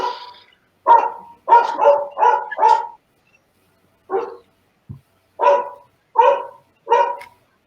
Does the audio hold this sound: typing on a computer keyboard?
no